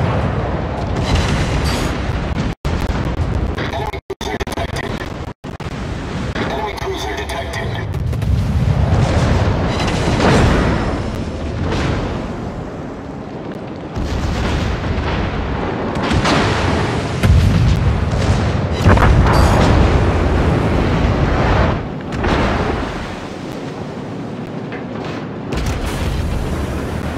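Naval artillery firing in the video game World of Warships, a dense series of heavy booming blasts and rumbling explosions layered over continuous battle noise, loud and sustained.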